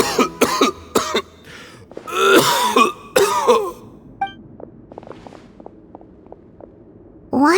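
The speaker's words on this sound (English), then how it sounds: "Why is he coughing so much?" A Genshin Impact character coughs in several rough, hacking bursts, close and loud, with throat-clearing and wheezy breaths in between and a few soft footsteps under it.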